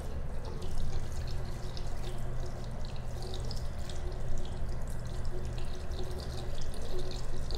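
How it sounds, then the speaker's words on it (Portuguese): A makeup brush is rinsed under a running tap, giving a continuous close rush of water with light splashing that stays steady throughout. "E aí depois é só enxaguar o pincel na mesma posição."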